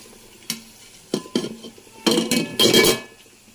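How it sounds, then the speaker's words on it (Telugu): Fried broad beans tipped from a pan into a bowl, with a few sharp metal clinks and scrapes of a spoon, then a louder stirring rattle and sizzle toward the end, close and without voices. "ఇలా వేయించుకున్న చిక్కుడుకాయలని మనం ఒక బౌల్లోకి వేద్దాము."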